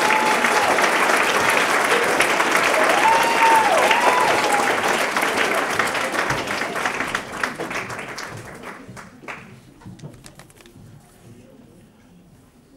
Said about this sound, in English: let's give a clap for our graduating seniors